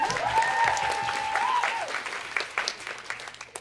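An audience at a fan festival applauds for Sophie, a moderate patter of clapping that gradually thins out, with a brief tonal sound early on.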